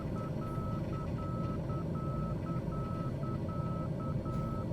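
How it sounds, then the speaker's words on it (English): Inner marker tone on an ATR-72 approach in Flight Simulator 2020, a steady train of short, rapid beeps repeating over a constant cockpit engine drone at idle power. "There's our inner marker beeping away at us."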